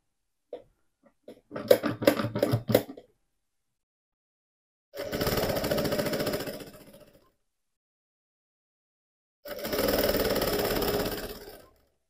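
A sewing machine stitches thick TNT fabric for a teddy-bear backpack, starting with a few short stuttering bursts, then running in two steady, fairly loud whirring stretches of about two seconds each, separated by silent pauses, with no voices.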